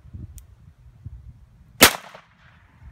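A single sharp gunshot cracks at a backyard shooting range, loud and close, with a brief decaying echo after quiet low rustling and handling noise beforehand; no talk.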